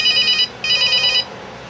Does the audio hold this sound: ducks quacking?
no